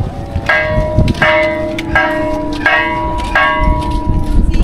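Church bell tolls loudly and close, five or six evenly spaced strikes with ringing overtones that hang between hits, over a low outdoor rumble.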